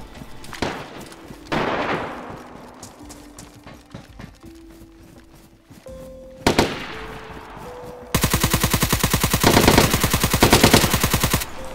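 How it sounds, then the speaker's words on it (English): Gunfire in the video game DayZ: a scattering of single shots, then a sustained burst of rapid automatic fire that stays loud and close, with no talk over it. "I'm getting shot at."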